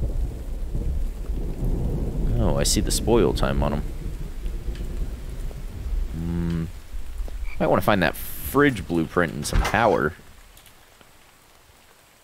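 Rain and a deep rumble of thunder in the survival game The Infected, a low continuous rumbling wash beneath someone talking over it, fading to quieter ambience at the end.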